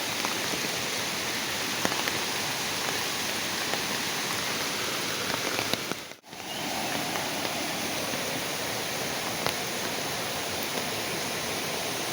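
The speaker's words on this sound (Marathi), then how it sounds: "पावसाचं आगमन झालं आहे" Steady first monsoon rain pours down in the Konkan region in a dense, even hiss with a brief dropout midway, close and continuous.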